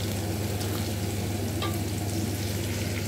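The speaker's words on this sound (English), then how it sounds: "I'm going to do fried cabbage today." Cabbage frying in a pan gives a steady, even sizzle with a low hum beneath it, continuous and close, with no talking.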